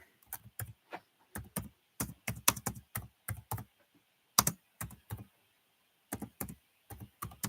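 Someone types on a computer keyboard, with short bursts of crisp, close key clicks separated by brief pauses and no talking.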